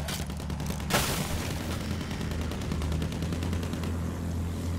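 Battlefield 1 battlefield gunfire, a sharp loud shot followed by steady rhythmic automatic fire over a low rumbling engine drone.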